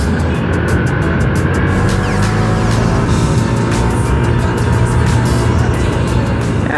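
A Honda Click 125i scooter accelerates with a steady, loud engine drone and heavy wind rush, heard up close from the rider's position.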